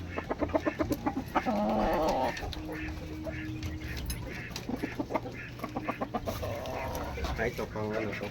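A flock of many chickens clucks and squawks nearby on a farm, with repeated overlapping clucks throughout and people talking under them.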